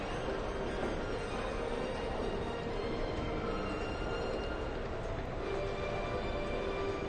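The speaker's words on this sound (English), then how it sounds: "Oh, there goes the train." A train rumbles past in a steady, continuous roar of wheels and carriages, loud and unbroken throughout with no voices.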